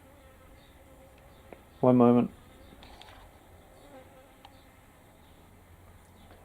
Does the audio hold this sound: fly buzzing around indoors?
yes